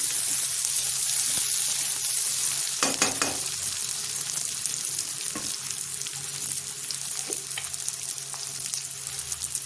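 Potatoes and onions fry together in a pan, giving a loud, steady, close sizzle, with a few knocks and stirring scrapes of a utensil and no talking.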